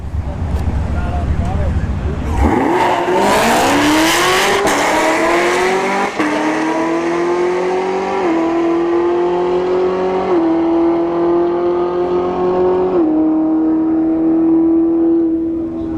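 Drag racing cars, a ZL1 Camaro and an S13 Nissan 240SX, launch at a motorsports park: a loud engine roar rises sharply, then holds a high revving drone through several gear shifts as it fades slightly.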